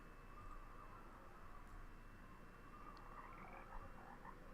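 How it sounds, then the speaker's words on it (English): Frogs croak in a misty bog in the Nancy Drew game Haunting of Castle Malloy, a quiet chorus of soft repeated croaks over a hiss of ambient noise, with no talking. "Okay, I hear croaking noises. Is that bog stuff?"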